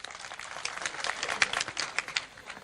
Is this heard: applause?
yes